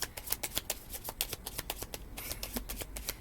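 Tarot cards are shuffled rapidly, a quick run of crisp papery riffles and taps, close and fairly quiet, with no talking.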